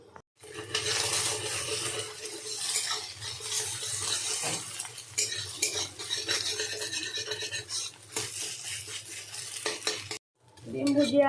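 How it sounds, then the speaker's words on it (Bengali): An egg fries in a little oil for mixed fried rice, giving a steady close sizzle with stirring and occasional utensil clinks. A brief gap comes near the end, then a louder burst of sizzling. "আমি অল্প তেল দিয়ে দিচ্ছি ডিমটাকে ভেজে নেওয়ার জন্য।"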